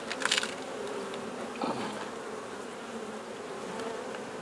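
Honey bees buzz steadily on the comb of an open hive, a dense continuous drone close by, with a brief louder burst near the start and another swell midway.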